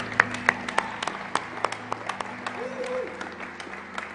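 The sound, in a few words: church congregation clapping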